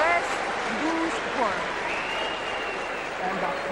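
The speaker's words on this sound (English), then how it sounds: "About time somebody booed that." A large Eurovision song contest arena crowd reacting loudly to the jury awarding twelve points from Cyprus to Greece, a dense sustained wash of booing and noise with a commentator's voice and tonal music over the top.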